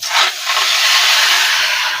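Mango pieces coated in sugar and salt drop into a hot kadai with freshly fried spices for a pickle, setting off a loud, close burst of sizzling hiss that holds steady without any voices.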